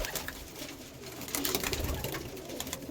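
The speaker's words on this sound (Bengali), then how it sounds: "এই পায়রাটা আমার অনেক পুরানো পায়রা আছে" An old pigeon in a loft of flying birds gives soft repeated coos, close by amid rustling and light bird noise, with no talking.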